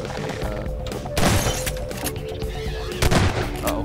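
Gunfire in Garry's Mod, a few sharp, loud shots cracking over a dense game soundscape, with two heavier bursts standing out.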